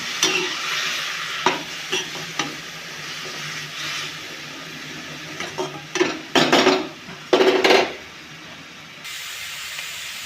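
Melugu thakkali greens stir-frying in a pan for a thuvaiyal, a steady broad sizzle with intermittent scraping stirs and louder bursts of hiss toward the end, close and alone.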